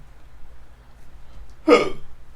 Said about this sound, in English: That hiccup looked like it actually hurt.